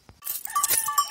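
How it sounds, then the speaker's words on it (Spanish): Goats bleat on a farm with a few short, nasal calls close by, brief and slightly overlapping, with no talk. "están balando ahí de fondo"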